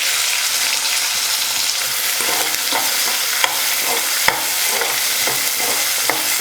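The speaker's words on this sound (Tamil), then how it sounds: "ஒரு 2 நிமிஷத்துக்கு வெங்காயம் நல்லா வதக்கிக்கலாம்" Two medium onions, finely chopped, sizzle loudly in hot oil while a spoon stirs them, giving a constant hiss with sharp scraping knocks every second or so.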